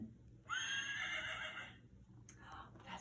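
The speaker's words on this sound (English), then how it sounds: "What does a horse say? You're right. Neigh, neigh." A horse whinnies once, loud and close, with a long wavering neigh that falls away, followed by a brief snort or shorter call near the end.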